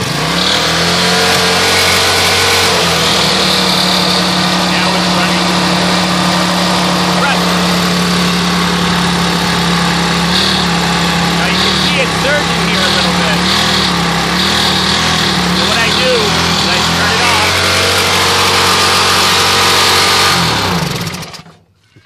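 Home-built generator and air compressor driven by a lawn mower engine, mounted horizontally, starts up and runs steadily at a loud, buzzing drone for about twenty seconds before cutting off abruptly.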